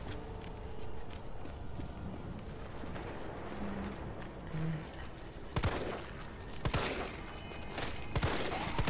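Gunfire in the Resident Evil 3 Remake video game: a few sharp shots ring out in the second half, spaced apart over a steady game ambience and music bed, with no talk.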